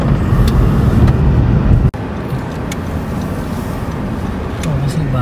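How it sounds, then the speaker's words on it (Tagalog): Heavy traffic of many cars on a Calgary road makes a steady, close roar of engines and tyres. A passing vehicle briefly rises above it, and a sharp break cuts the sound for a moment. "Daming sasakyan mo."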